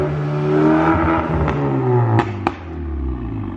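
A VW GTI MK6 with a catless downpipe and flash tune revs loudly nearby, the engine note climbing and falling through several blips, with two sharp pops near the end before it settles back to a rough idle.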